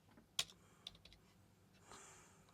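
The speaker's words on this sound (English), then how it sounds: "Now we can call this method hello dot say hello to user, and username write John." Close, sparse keystrokes on a computer keyboard while writing Python code, a few distinct clicks with a sharper tap near the start, all fairly quiet and without talk.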